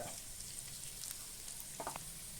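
Dried red chili, garlic, chana dal, urad dal, cumin and mustard seeds fry in oil in a pan, giving a quiet, steady sizzle with a few small pops and clinks near the end.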